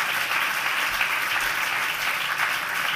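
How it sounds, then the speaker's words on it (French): Steady, even applause from the audience at a film awards ceremony, a dense wash of clapping that holds at the same level throughout. "qu'on peut applaudir encore"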